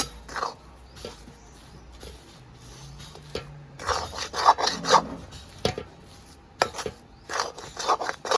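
Fish cutlet mixture made from loitta fish being worked by hand as salt is mixed in, giving soft rubbing, squishing and scraping sounds in irregular bursts, close and fairly quiet.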